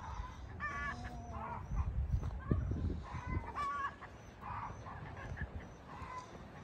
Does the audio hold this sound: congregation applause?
no